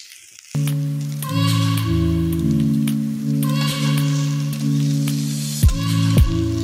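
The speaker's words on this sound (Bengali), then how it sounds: "পেঁয়াজটা ভালো করে লাল লাল করে ভেজে নেব।" Chopped onion and black cumin seeds fry in hot oil, giving a strong continuous crackling sizzle with a couple of sharp clatters near the end, over background music.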